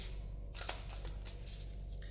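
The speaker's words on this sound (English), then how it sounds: "These are quite new cards, so when you shuffle them, they're quite, slippy" Short bursts of a deck of new, slippery playing cards being shuffled by hand, several quick riffling rustles over a steady low background hum, close and fairly quiet.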